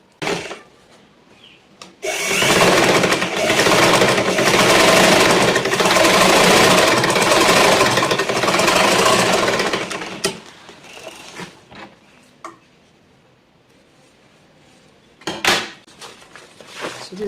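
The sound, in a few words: sewing machine stitching pencil skirt fabric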